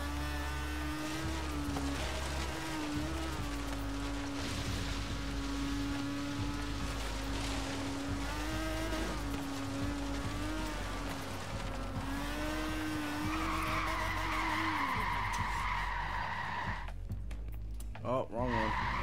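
A V8 Holden Commodore driving in Forza Horizon 3, its engine droning steadily with pitch rising and falling through gear changes, with someone talking over it.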